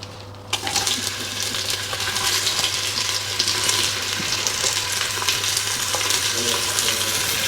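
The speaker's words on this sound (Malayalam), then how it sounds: "എണ്ണ ചൂടായിട്ടുണ്ട്, അതിനകത്തോട്ട് നമ്മുടെ ഈ സബോള ഇട്ട് കൊടുക്കാം" Sliced onions dropped into hot oil in a home kitchen pan, a steady close crackling sizzle that starts with a sharp burst and continues evenly throughout.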